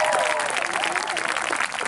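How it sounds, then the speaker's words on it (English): A crowd at an outdoor high school graduation ceremony applauds for the town mayor. Dense, steady clapping fills the whole stretch and is joined by a few scattered voices and cheers. "Let's give him a big round of applause"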